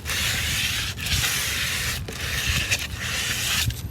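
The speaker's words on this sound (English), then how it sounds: "now we're going to distress with sandpaper" Sandpaper rubs over spray-painted furniture in long strokes, distressing the oil-based finish. The scratchy sanding runs loud and close, with brief pauses between strokes and no voices.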